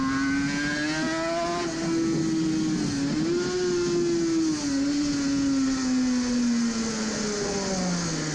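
Onboard a classic Team Classic Suzuki RG500 racing motorcycle, its two-stroke engine drones loud and close throughout, pitch easing and rising through a corner then sliding lower as revs drop, with steady wind roar.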